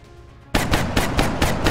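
Rapid automatic gunfire in XCOM Long War, a steady burst of about seven loud, evenly spaced shots that starts suddenly after a quiet moment.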